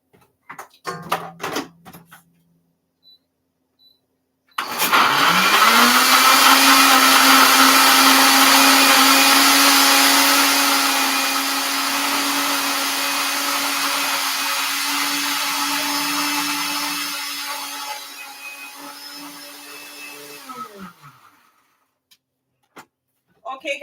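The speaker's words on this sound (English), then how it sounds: "I've blended all my spices in here" Kitchen blender whirring through a batch of spices with a little water, a loud sustained motor whine that eases partway through, preceded and followed by brief handling clatter.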